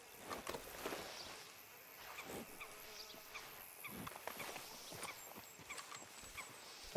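Horse hooves clip-clop in Red Dead Redemption 2, a few soft, irregular thuds at close range over a quiet outdoor ambience with a faint insect buzz.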